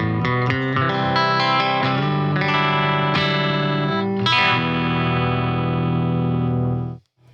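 Clean electric guitar with compression played through a Fender Champion 50XL amp: a quick run of picked notes and chords settling into a long sustained ringing chord that cuts off abruptly, up close and alone.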